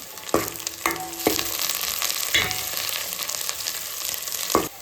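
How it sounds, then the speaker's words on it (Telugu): Onions, green chillies and curry leaves frying in hot oil for a Telugu fish curry, a dense continuous sizzle broken by several sharp scrapes and knocks of a spoon against the pan. "ఆనియన్స్ కొంచెం ఫ్రై అయ్యాక ఇందులోకి కొన్ని పచ్చిమిర్చి, అలాగే కొన్ని కరివేపాకు ఆకులు వేసుకుని ఫ్రై చేసుకోండి"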